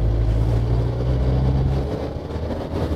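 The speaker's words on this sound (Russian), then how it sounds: "Ух, турбинка начинает подсвистывать." A Hyundai HD78 truck accelerating on the road, its engine giving a loud, low, steady drone from inside the cab; a faint turbo whistle may sit beneath the engine note.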